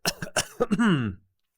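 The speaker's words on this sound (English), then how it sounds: "chronic cough" A short burst of several quick coughs, close and dry, ending in a drawn-out raspy cough before falling silent.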